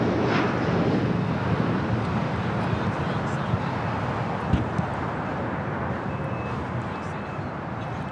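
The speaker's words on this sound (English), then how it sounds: "That was JSX Flight 1070 heading to Cabo San Lucas in an ERJ 145" Embraer ERJ 145 jet, JSX Flight 1070, on takeoff at LAX, a broad, rumbling roar with wind buffeting the microphone that stays steady and slowly eases.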